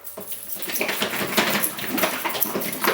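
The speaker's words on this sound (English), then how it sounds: "And then what we do, we shake it all up." A fake blood mixture made with red food colouring is shaken vigorously in a container, a continuous close sloshing and liquid rattling that keeps up at an even, busy pace.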